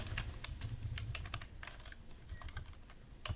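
Rapid typing on a computer keyboard, a dense run of quick close-up key clicks with short pauses, alone against faint room noise.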